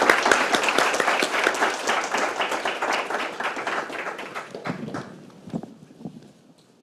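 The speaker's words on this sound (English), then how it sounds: "Join me in giving our panel a round of applause." An audience applauds a panel at a discussion event on advancing equity, with a dense burst of clapping that thins into scattered claps and fades out.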